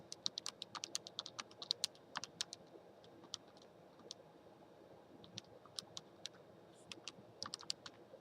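Calculator keys pressed in quick succession to enter a list of statistics values give many sharp, light clicks in an uneven rhythm, close but quiet, with no talking.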